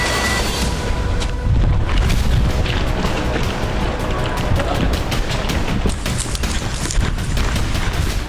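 Rapid booms and blasts from Israeli strikes on Hezbollah positions in southern Lebanon, a dense, loud barrage of explosions and crackling impacts that rumbles continuously throughout with no voices.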